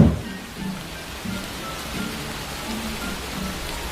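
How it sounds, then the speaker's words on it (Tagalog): Steady rain pours down, a continuous dense hiss of drops hitting surfaces, fairly close and even throughout with no voices. "ang sarap talagang maligo sa ulan pre"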